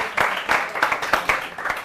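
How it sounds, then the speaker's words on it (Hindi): Short burst of audience clapping for poet Shambhu Shekhar at a Hindi poetry gathering honoring martyrs, with several distinct claps rising and falling, fairly close. "एक बार जोरदार तालियां हो शंभू जी हमारे भी।"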